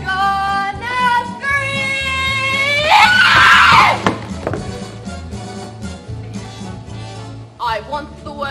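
A child screams loudly for about a second during a 2010 school theatre troupe's Willy Wonka Jr. stage musical, cutting in after sung lines and over steady musical accompaniment.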